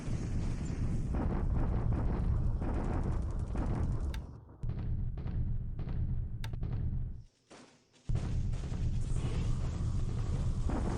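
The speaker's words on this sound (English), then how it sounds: "All right, yeah, we're bombarding again." An artillery bombardment in War in the Pacific Admiral Edition rolls on as a dense, continuous rumble of booming impacts. It drops out briefly twice before resuming at full strength, with no talking over it.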